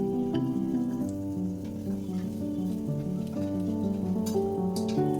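Date paste cooks in ghee in a pan (kadai) for dry fruit ladoos, a soft continuous sizzle running under a sustained tonal background with occasional small clicks.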